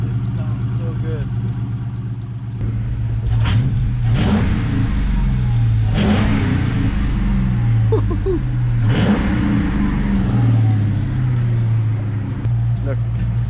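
Ford Mustang 5.0 V8 engine running after a cold start, a steady low idle punctuated by several sharp revving blips at regular intervals, close and loud.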